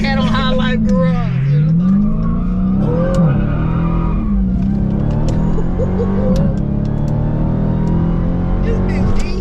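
A Dodge Hellcat Jailbreak, rated 717+ hp, revs and accelerates hard with a loud, rising and falling engine roar that runs the whole time. Voices talk over it.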